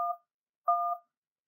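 Two short, clean phone keypad DTMF tones sound in sequence as a banking password is entered, each a brief steady beep separated by silence.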